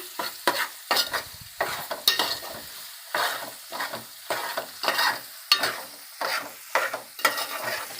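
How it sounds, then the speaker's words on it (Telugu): Ginger and drumstick pieces fry in hot oil in a pan for a drumstick curry, a steady sizzle broken by repeated scraping stirs that come in a loose rhythm, close and clear with no talking. "ఈ ముక్కలకు పట్టే విధంగా కొంచెం నూనెలో వేగనివ్వాలి"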